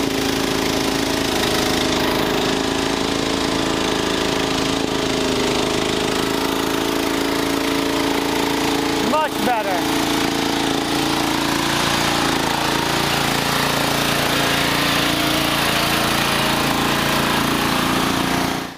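Murray lawn mower engine running loud and steady at high idle, its drone rough and breaking up slightly, recorded close with a brief dip midway.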